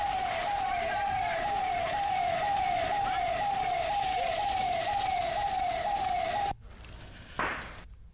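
A municipal fire brigade vehicle's siren wails in a fast, regular repeating yelp, loud and close for several seconds before cutting out abruptly into a quieter street background with one brief swell.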